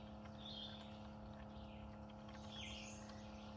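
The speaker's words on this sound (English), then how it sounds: "I'm listening to the pump run behind me." A water well pump for an off-grid DIY well runs with a steady low mechanical drone and hum, close and continuous, with faint chirps in the background.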